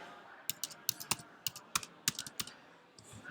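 Quick bursts of typing on a computer keyboard, about a dozen crisp key clicks in uneven clusters, close and fairly quiet against a soft room hiss.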